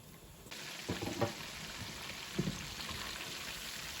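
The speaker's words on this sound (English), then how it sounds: "we're going to drop the shrimp into the hot grease" Shrimp drop into hot grease with a sudden burst of sizzling, followed by a few soft clinks and splashes, then a steady close crackling fry with no voices.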